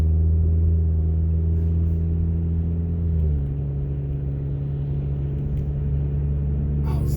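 A GM ECOTEC engine idling after repair, a loud, close, low droning rumble with steady hum tones that dip and settle slightly partway through, running on continuously without talk.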